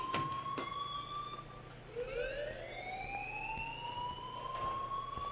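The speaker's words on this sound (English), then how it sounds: "please turn off that alarm since that's your job" An alarm rings in the video game Life Is Strange. A steady electronic tone gives way after a brief pause to a rising, siren-like wail that holds at a moderate level, alone and without speech.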